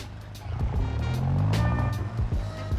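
A revving drift car engine in the video game BeamNG roars steadily with rising and falling pitch, close and loud, with brief gear-shift dips.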